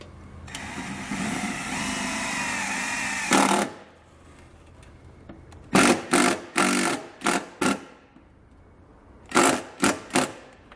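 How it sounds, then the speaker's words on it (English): A power driver whirs steadily for about three seconds as a self-tapping screw goes into vehicle metal, close and loud, then several short sharp trigger bursts follow in quick succession. "I'm just going to use the self-tapping screw that they give us with the kit to get that secured."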